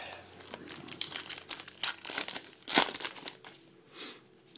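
A 2012 Topps Gypsy Queen baseball card pack wrapper is torn and crinkled open close up, giving irregular bursts of sharp plastic crackling and rustling with brief pauses, loudest near the middle.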